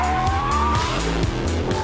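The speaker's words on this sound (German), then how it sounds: "Das ist, glaube ich, der erste Audi, den man wirklich Anschlag quer fahren kann." An Audi R8 sliding sideways on a race track, its tires squealing in a sustained high whine over a loud, close engine roar.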